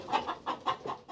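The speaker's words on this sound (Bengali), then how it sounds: "প্রায় ৬০ লাখ হাঁস, মুরগি ও কবুতর রয়েছে তাদের খামারে।" Hens on a Barguna poultry farm cluck in a quick string of short, close calls, five or six in about a second, with no talk.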